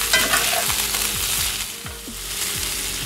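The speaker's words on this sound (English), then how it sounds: "Now we'll go ahead and give this a stir." Potatoes with red pepper flakes and black pepper are stirred in a hot pan, giving a few scraping spoon strokes over a steady close sizzle, with no talk.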